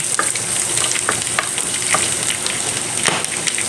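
Plenty of garlic and pork belly frying in a pan for binagoongang pork, a steady close sizzle with occasional crackles and light spatula taps, no talking.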